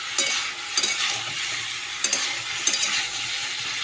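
Cauliflower fried earlier is stirred with cooked-down spices in a pan, a steady sizzle broken by about five sharp scrapes of a spoon against the metal, with no talking.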